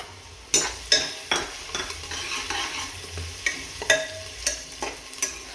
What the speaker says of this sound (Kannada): ಕಟ್ ಮಾಡಿ ಇಟ್ಕೊಂಡಿರೋ ಬೆಳ್ಳುಳ್ಳಿನ ಅಷ್ಟು ಹಾಕ್ಬಿಟ್ಟು ಚೆನ್ನಾಗಿ ಇವಾಗ ಫ್ರೈ ಮಾಡ್ಕೊಳ್ಳೋಣ